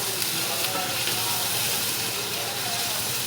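Garlic, ginger and onions fry in a pan for an aloo gosht curry, giving a loud, continuous close-up sizzle with faint stirring scrapes, and no voices.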